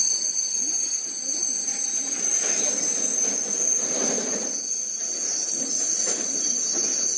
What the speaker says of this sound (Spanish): El tren de pasajeros que llega por la mañana procede de Estocolmo.